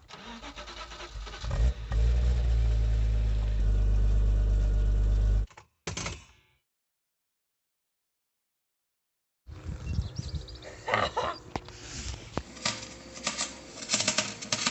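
A BMW E36 engine cranks and catches with a loud close roar, cuts out into silence, then returns with clattering, ticking mechanical noise as a rewelded steel wheel spins.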